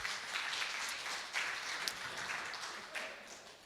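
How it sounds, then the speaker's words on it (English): An audience at a tech meetup claps for a new logo reveal, a moderate scattered patter of hands with a few sharper individual claps poking out, fairly quiet and steady. "Yeah, please clap"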